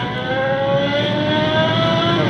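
A Honda CB1000 motorcycle engine revving hard, a loud sustained high-pitched roar that holds steady and close for the whole stretch, with no voices.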